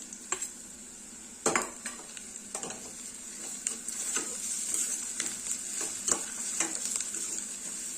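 Onion, ginger and garlic sautéing in a pan with a steady sizzle, broken by repeated scrapes and clinks of a spoon stirring against the metal, with no talking.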